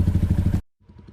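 A loud motorcycle engine pulses in a fast, rough rhythm up close on a steep mountain road, cuts out abruptly, then returns much fainter a moment later.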